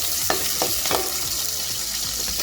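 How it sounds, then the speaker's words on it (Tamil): Onions frying with whole spices in a pan for hotel-style chicken curry, a dense steady sizzle with repeated spatula scrapes as they are stirred, close and continuous. "வெங்காயம் சேர்த்து லைட்டாக கிண்டி விட்டுருங்க."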